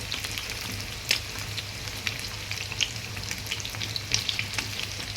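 Food fries steadily in a pan with a constant crackling sizzle, broken by occasional sharp stirring clicks and pops, with no voices.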